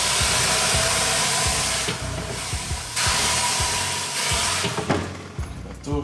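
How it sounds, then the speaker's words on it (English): Steam hisses steadily into a hot oven baking rosemary and honey sourdough bread, a loud continuous rush that shifts in intensity and tails off at the end, with some low clattering underneath. "Let's get the steam."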